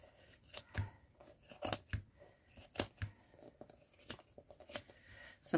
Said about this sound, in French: ça fait le bruit des ciseaux d'un coiffeur